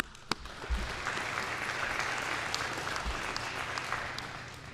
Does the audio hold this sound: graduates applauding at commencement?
yes